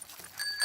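A bicycle bell rings in the Peppa Pig cartoon as Daddy Pig is shown his bike, a couple of bright metallic dings heard at close range with no talk over them.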